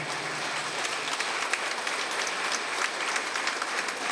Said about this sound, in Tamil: உங்களுடைய ஆசீர்வாதம் கைத்தட்டல் மூலமாக